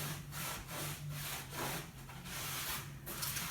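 Paint is rubbed off a shelf with a rag in repeated back-and-forth strokes, about seven scrubbing passes in a steady rhythm, close and moderately loud over a low steady hum.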